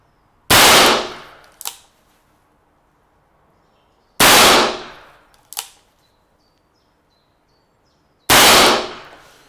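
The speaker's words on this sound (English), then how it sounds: "I'll fire 3 single action, 3 double action, show what I mean" An Alpha Carbine .38/.357 long-barrelled revolver is fired single action, three loud sharp shots spaced about four seconds apart, each followed by a short metallic click of the hammer being cocked.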